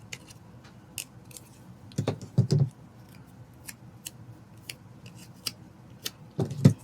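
Scissors cutting paper for a craft, scattered crisp snips and clicks, with a cluster of louder close cuts midway and another at the end in a quiet room.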